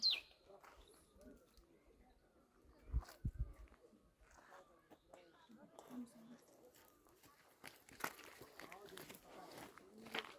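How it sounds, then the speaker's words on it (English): Birds call faintly in the forest of Ayubia National Park near Donga Gali, scattered coos and chirps under nearby chatter, footsteps and outdoor rustle. "Birds' voices."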